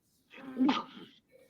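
A single short sneeze bursts out close by during a casual basketball talk show, with a brief breathy tail and then quiet.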